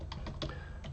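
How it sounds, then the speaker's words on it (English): Quick, close clicks of typing on a computer keyboard, a few keystrokes in a short burst with steady room noise behind and no talking. "I'm gonna type that up here."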